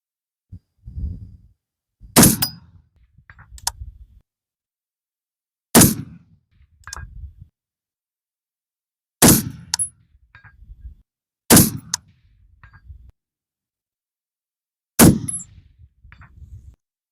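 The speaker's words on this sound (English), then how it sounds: "now let's shoot at 300, and I'm going to put 300 on the reticle at the 300-yard target" Five loud rifle shots spaced a few seconds apart at a 300-yard range, each a sharp crack followed by a faint, delayed ring of the distant steel target.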